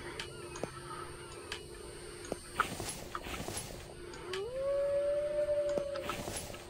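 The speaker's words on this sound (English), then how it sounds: "I guess that wolf is so lonely, that's why it's howling." A lone wolf howls in the distance outdoors at a camp where a stove is being built, one long rising then steady wail over faint background noise.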